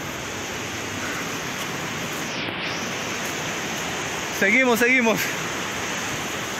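A river rushes steadily beside an overgrown, abandoned hiking trail on the way to a waterfall and cave, a constant loud hiss of flowing water, with someone briefly speaking over it.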